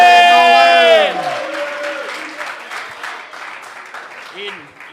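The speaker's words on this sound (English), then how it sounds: "Everybody cheer for Nolan" A meeting crowd bursts into clapping and cheering just after a voice speaks into a microphone. The applause stays moderately loud, then thins out over a few seconds.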